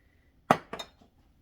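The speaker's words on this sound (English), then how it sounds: "Give it a little stir." A spoon clinks sharply against a bowl two or three times while stirring freshly grated nutmeg into a mixture for a coconut rum caramel Easter bun, each close, brief strike fading quickly into quiet.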